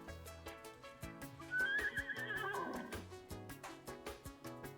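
A horse neighs in the Uma Musume racing game, one clear whinny rising over a rhythmic, bouncy music track with steady beats.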